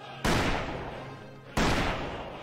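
Two loud, sharp pistol shots from the Mount & Blade: Warband game, Snow In The East mod, about 1.3 seconds apart, each a hard broadband crack that decays slowly into a reverberant tail, with no talking.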